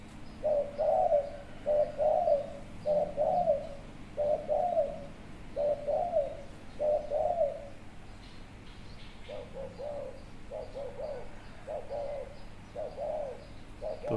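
A spotted dove cooing in repeated short phrases, a steady series of soft rounded calls with brief gaps, fairly close over faint background hum.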